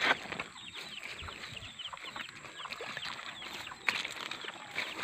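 Chickens cluck softly in short scattered bursts against a faint outdoor background, with no talking.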